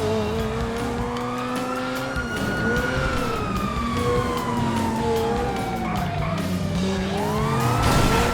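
Police sirens wail and sweep up and down in a GTA 5 car chase involving a red Ferrari supercar, loud and close above a roaring engine, with several siren tones overlapping throughout.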